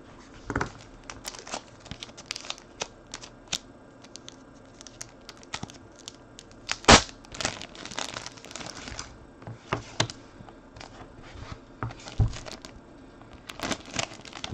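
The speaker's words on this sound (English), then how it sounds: "Making this break take forever by bagging these suckers back up, taking them off and labeling them." Plastic sleeves crinkle and rustle in scattered bursts as baseball trading cards are bagged and labeled during a card break, with one sharper crackle midway and no talking.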